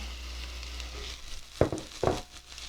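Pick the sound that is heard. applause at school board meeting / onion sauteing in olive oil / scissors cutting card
onion sauteing in olive oil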